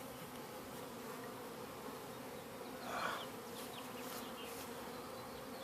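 Honeybees swarm around the queen while a hive is loaded, making a dense, steady buzzing hum that swells briefly midway, close and continuous with no talking.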